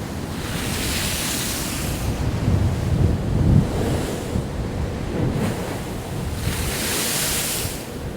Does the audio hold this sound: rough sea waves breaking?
yes